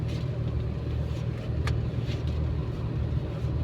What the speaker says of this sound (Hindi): देखो गाड़ी चलने लग गई